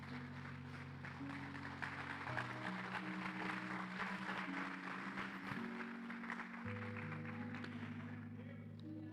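A church congregation applauds together, a steady dense wash of clapping that continues throughout without pause.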